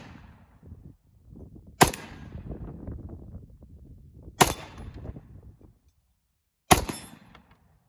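An FN FS2000 bullpup rifle fires three sharp, loud shots at uneven intervals, each followed by a short echoing decay over low outdoor rumble.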